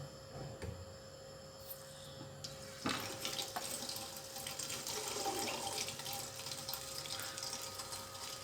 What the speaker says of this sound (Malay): sekarang kita tengok air masuk dari bahagian atas